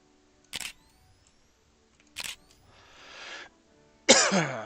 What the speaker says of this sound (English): I have to apologize every time I cough